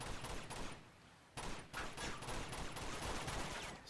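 Muffled, fairly faint rattling bursts of gunfire from blind firing in Uncharted 2, coming in quick clustered volleys with a short lull in the middle.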